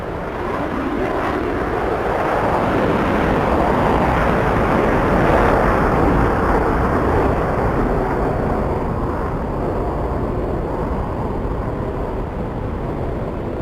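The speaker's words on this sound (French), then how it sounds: "J'entends un autre hélicoptère." A helicopter passes overhead at night, a steady broad engine and rotor roar that holds loud and constant for the whole stretch with no voices.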